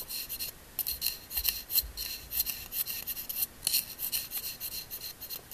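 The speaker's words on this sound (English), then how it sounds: "keep the scrapes long and smooth, okay, in the back" A knife blade scraping the back of a woodwind reed during finishing, making a steady series of long, smooth rasping strokes, close and fairly soft, with no voices.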